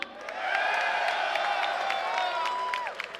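A wrestling crowd in El Paso cheers and applauds steadily, with whoops and sharp claps rising over a sustained roar for a few seconds.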